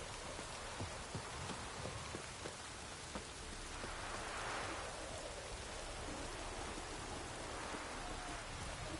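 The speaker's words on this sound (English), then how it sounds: "Rains like this come sowing time." Steady rain falls in a video game, an even, continuous hiss of drops on surfaces with scattered louder patters, with no voices.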